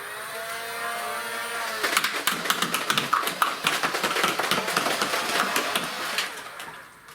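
Two Nerf Hyperfire blasters firing together, a rapid clattering burst of motorized shots over a whirring flywheel spin-up, lasting about four seconds before winding down, close and loud with no talking.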